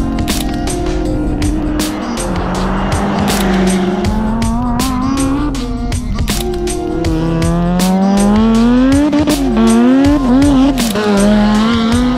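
A race car slides fully sideways through a corner at the Pikes Peak hill climb, with loud, close tire squeal wailing and bending in pitch over a roaring, rising engine note.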